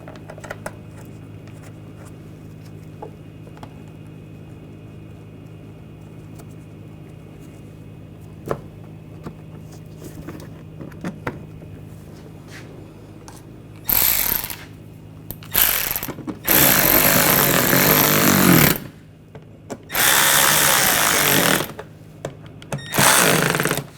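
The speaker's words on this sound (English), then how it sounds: "Put these screws in." A power tool driving screws into the bumper of a 2007-2013 BMW X5, after a quiet stretch of faint clicks, sounding in two or three loud whirring bursts near the end.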